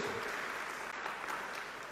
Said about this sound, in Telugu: చప్పట్లు గట్టి కొడదామా.